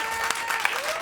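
A studio audience claps briefly with a crowd murmur, sharp individual claps standing out over steady clapping, while faint tones run underneath.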